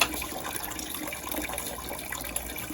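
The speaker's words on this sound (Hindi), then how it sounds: "अभी यहाँ पे हम बर्तन वगैरह धो लेते हैं।" Tap water runs steadily into a sink while dishes are washed on a cold winter morning in Punjab, a continuous close splashing gush with no speech.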